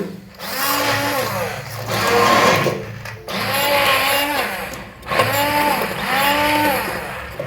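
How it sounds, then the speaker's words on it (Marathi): An electric masher whirs loudly through vegetables for pav bhaji, running in several long bursts with brief pauses between, its motor pitch rising and dipping as it churns the mix into paste. "तर आम्ही स्मॅशर जोडलं आहे त्याला हे चांगल्या प्रकारे आम्ही कसं मिक्स करतो"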